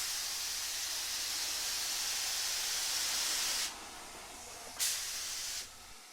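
Spray gun hissing out 2K paint onto suspended car wings and bonnet during a Daihatsu Charade restoration, the nozzle set to a horizontal fan; a steady close hiss runs for several seconds, cuts off, then returns in one shorter burst.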